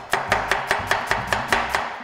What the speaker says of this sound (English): We just wanna rough cut these onions